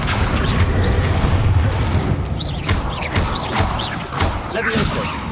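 The Accio summoning spell is cast in Hogwarts Legacy, heard as loud magical whooshes, deep booms and thuds mixed with bright chirping sparkles over a steady dense game soundscape, with a voice briefly mixed in.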